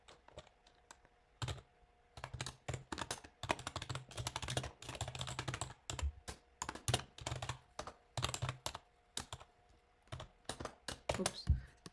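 Someone types code into R on a computer keyboard, with quick bursts of close key clicks separated by short pauses.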